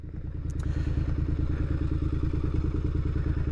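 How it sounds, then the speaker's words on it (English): A Triumph Bonneville engine running steadily near a roadside lay-by, a close, loud, even rhythmic thumping and clatter throughout, preceded by a brief click near the start, with no talking. "we just check that the bike is running okay"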